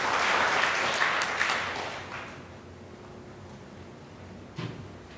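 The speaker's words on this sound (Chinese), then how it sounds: "咱搁一遍鼓掌来鼓励因" Church congregation applauding during a Taiwanese-language worship service, a dense burst of clapping that fades over about two seconds into quiet room tone, followed by a single soft thump.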